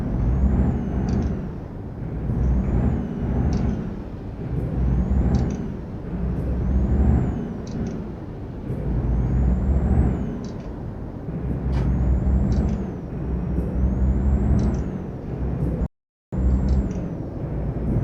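A truck's air brakes in the Euro Truck Simulator video game give repeated sharp hissing releases over a loud, constant diesel engine rumble, spread across the whole stretch.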